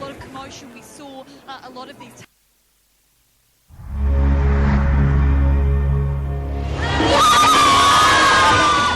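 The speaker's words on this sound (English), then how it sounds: "Crowds of screaming fans gathered in Mumbai to celebrate a landmark film." Crowds of fans in Mumbai scream and cheer to celebrate a landmark film, a loud sustained roar with high shrieks after a short spoken passage and a brief silence.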